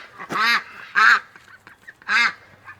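An injured duck, one that came back hurt from the swamp, gives three loud, separate quacks close by, with quiet pauses and faint rustling between them.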